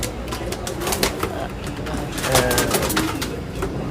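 Pigeons coo steadily inside a racing-pigeon loft, their soft, repeated calls overlapping close by, with faint background murmur.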